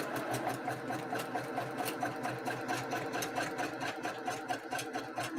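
Sewing machine stitching through a quilt, a close, steady rapid needle clatter with an even rhythm and a motor hum beneath, running without pause and without talk.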